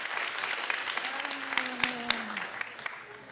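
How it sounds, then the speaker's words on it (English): Applause from a crowd at a National Honor Society senior reception, dense continuous clapping with a few sharper individual claps standing out, fairly close and lively throughout, with faint voices mixed in underneath. "So let's give them another round of applause"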